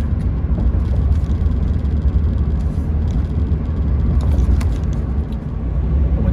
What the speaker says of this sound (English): Look at this Texas traffic.